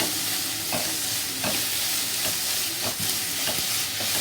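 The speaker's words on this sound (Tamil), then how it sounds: "இப்போ பூண்டு போட்டுக்கலாம் பூண்டு நல்லா வதங்கட்டும்" Green chillies and garlic sauté in a hot pan with oil, giving a continuous loud sizzle broken by periodic scraping stirs of a spatula every half second or so.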